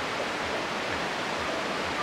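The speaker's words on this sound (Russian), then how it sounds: "вот речка с чистейшей водой, с ледника течет" Glacier-fed mountain river rushing steadily, a dense continuous wash of flowing water close by with no voices over it.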